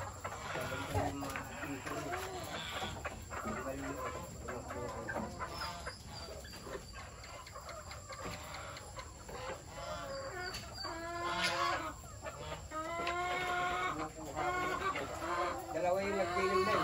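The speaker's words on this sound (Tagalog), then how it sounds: "Yan, tignan natin tong mga sisiw." Native chickens and chicks in a yard, hens clucking repeatedly at close range alongside peeping chicks, with people talking now and then over the birds.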